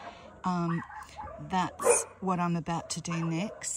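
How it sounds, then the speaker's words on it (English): Neighbours' dogs bark and yip repeatedly next door, loud and close, during a caravan J-rail resealing job while someone talks over them. "Excuse the dogs barking,"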